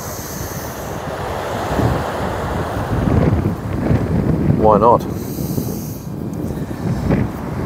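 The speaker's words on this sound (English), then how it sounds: "It's bloody windy up here." Strong wind buffets the microphone in a steady, loud roar, with a person speaking briefly under the gusts.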